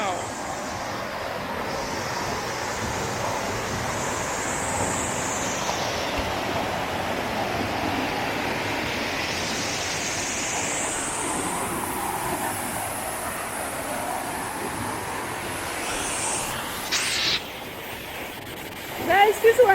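Steady rush of the Nyabomite river waterfall in Kenya, a continuous broadband roar heard close by with shifting hiss, and a few sharp knocks near the end.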